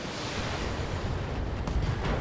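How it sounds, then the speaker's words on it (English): A mech in Battletech firing a full weapon salvo, a sustained, dense roar of overlapping blasts and rumbling booms that stays loud throughout, with a few brief higher tones near the end. "Firing a full salvo."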